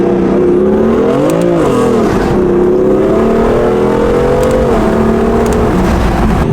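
A BMW M4 pulls away close by, its engine revving loudly and rising and falling in pitch as it accelerates, with no voices over it.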